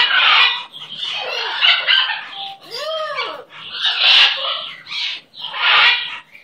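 A large pet bird squawks and clucks in loud, harsh bursts close by, with a short whistled note in the middle and no talking.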